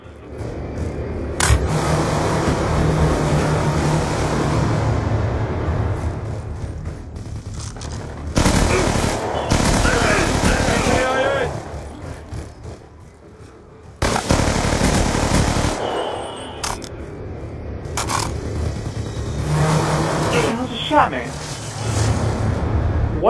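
In the Black Ops 2 video game, a Warthog strafing run lets loose heavy, rapid bursts of gunfire that come in loud clusters with engine-like roaring, while voices and other game sounds fill the gaps.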